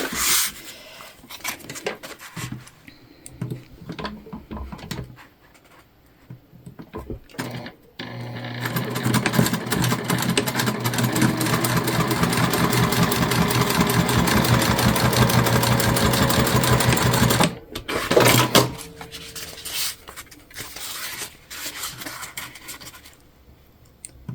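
A sewing machine stitches down two pieces of a bag, running loud and steady for about ten seconds in one continuous whir, framed by shorter bursts and clicks before and after.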